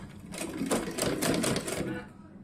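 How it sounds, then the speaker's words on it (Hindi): Sewing machine stitching layered fabric frills for a small doll-sized summer dress, a steady rapid mechanical whirr with rhythmic needle clatter running continuously at close range. "और हमें इसको ऐसे इसके ऊपर हमें सिलाई लगानी है।"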